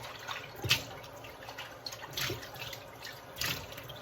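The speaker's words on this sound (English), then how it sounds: "Okay, and I rinse the bowl out." Tap water running over a bowl being rinsed, a soft steady splash with brief louder gushes and clinks as the bowl is moved under the stream.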